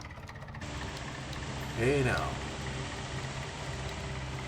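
A tractor engine in Farming Simulator 2011 runs at a steady mid-pitched idle with a continuous hum, while someone speaks briefly over it.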